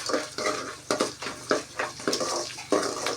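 Onions sizzling in hot oil with urad dal and fenugreek for pagakkai pulikulambu, a steady crackling fry broken by regular stirring scrapes in the pan.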